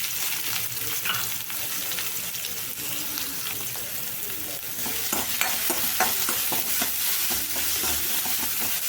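Chopped onions fry in a hot pan with curry leaves and cumin and mustard seeds, a continuous close sizzle broken by stirring scrapes that grow busier partway through, with no voices.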